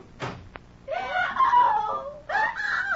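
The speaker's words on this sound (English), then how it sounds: "What was that scream I just heard?" A woman in an old thriller radio drama lets out prolonged, loud, wavering screams in two bursts, preceded by a brief sharp knock.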